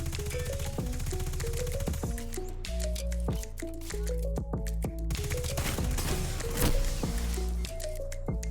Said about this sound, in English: you're going to see the recluse shooting straight up and slightly to the left